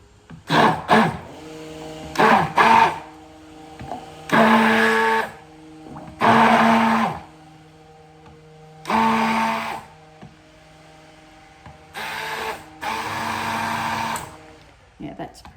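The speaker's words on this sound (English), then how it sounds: "bring the blender in" Blender whirring in repeated short bursts while mixing cold process soap ingredients at home, each blast loud and close, separated by pauses with a voice talking in between.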